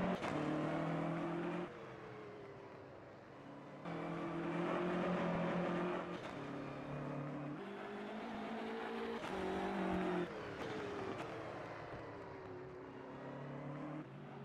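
GT3 race cars at the Mid-Ohio Sports Car Course, including a BMW, roar past with loud engine notes that rise and fall through upshifts and downshifts, several cars overlapping in a continuous racing drone.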